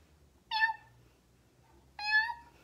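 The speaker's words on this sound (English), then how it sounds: "it's a cat. And a kitty goes, what? Meow, meow." A cat meows twice, each a clear, fairly close call separated by a pause of over a second, set within a children's Old MacDonald farm sing-along.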